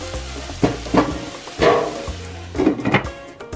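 Mushrooms sautéing in a hot pan give a steady close sizzle, broken by several louder scraping bursts as they are stirred and spread out, with no talking.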